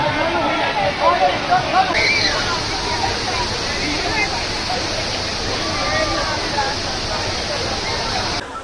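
Steady roar of a hidden waterfall in Jamaica, a dense broadband rush throughout, with a crowd of holiday tourists chattering under it and people talking nearby.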